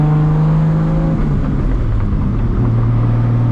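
A heavily modified 1000-plus horsepower Toyota Supra MK4 accelerates on the road, its loud engine note climbing and shifting pitch as it gains speed, heard close from inside the car with no talking.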